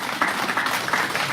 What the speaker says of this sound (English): Go ahead and give him a round of applause.